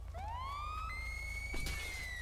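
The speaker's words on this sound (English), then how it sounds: "High siren." A police siren in Grand Theft Auto V wails upward and holds a high steady tone, moderately loud over a low rumbling background, with a brief clatter midway.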